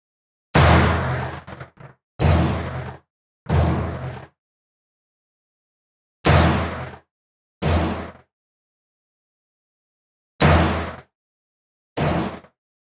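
Seven sharp .22 rimfire shots from an AR Tactical rifle, each a loud, close crack with a short decaying tail, fired singly at irregular intervals with silence between.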